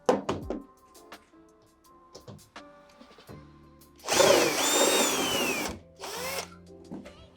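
A power drill backs screws out of a side panel on a Fisher Paykel washing machine, with a loud whirring burst of about two seconds followed by a shorter second run, and scattered knocks and clicks around them.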